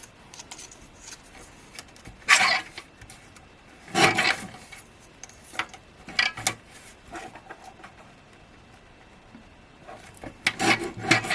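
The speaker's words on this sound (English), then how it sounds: "now I need my little trimmer, and we'll just cut that down to 5 3/4" A small paper trimmer cutting card down to size, with several short scraping slides of the blade spaced out across the clip, close and fairly quiet.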